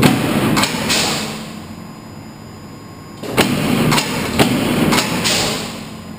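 A Pacific 10-foot by 1/4-inch hydraulic metal shear cycles in continuous mode: a steady motor and hydraulic hum runs throughout while loud, close, sharp clanks and thumps of the stroking blade and hold-downs repeat at irregular intervals, with no talk.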